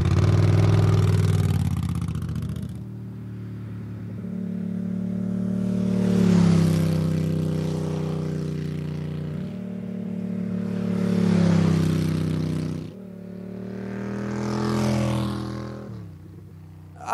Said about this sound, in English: this thing, with its really deep rumble and relatively high revs from a V-twin